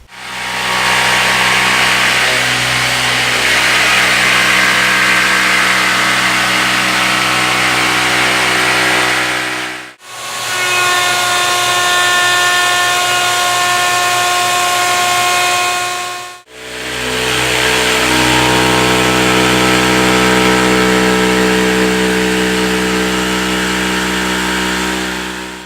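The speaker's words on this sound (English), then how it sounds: "now I need to cut this out with my jigsaw" A power jigsaw cuts out a master template for an extension table, running loudly and steadily in three long bursts with two brief stops between them.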